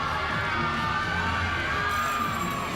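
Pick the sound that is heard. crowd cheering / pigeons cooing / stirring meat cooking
crowd cheering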